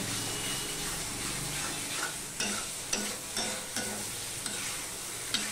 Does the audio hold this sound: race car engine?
no